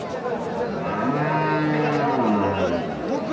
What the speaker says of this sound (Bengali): এখানে একটা দেশি গরু দেখছি আমরা।